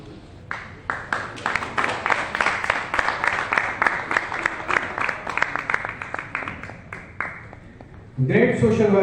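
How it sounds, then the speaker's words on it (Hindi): An award ceremony audience claps in a loud, rhythmic, nearly unison beat, sharp evenly spaced claps for about eight seconds before a voice starts speaking. "जोरदार तालियों से आपका भी स्वागत, अभिनंदन"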